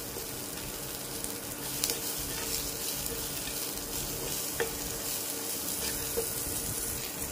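Chopped onion and garlic frying in a pan with a steady, even sizzle and a few light clicks of stirring, no voices.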